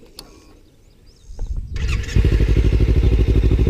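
A motorcycle engine cranks with a rising whir, then catches and settles into a loud, steady, pulsing idle close by after a few faint clicks.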